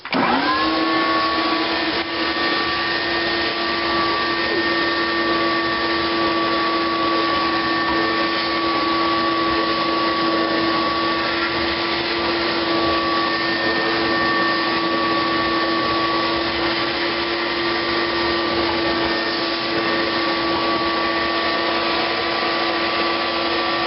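A vacuum draws debris and pebbles out of a sump pit during a Liberty SJ10 radon install, a loud continuous motor roar with a steady whine that starts abruptly and runs unbroken throughout.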